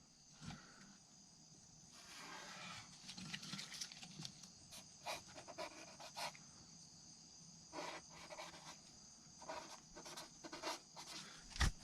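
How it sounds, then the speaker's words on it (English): Marker pen writing on an RV air conditioner gasket, a Coleman Mach 3 unit being replaced from the inside: short scratchy strokes come in repeated bursts, close and fairly quiet, with a steady high hum underneath. "we'll mark it and then we'll write a 1/4 inch over"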